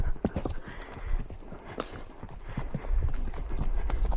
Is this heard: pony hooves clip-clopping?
yes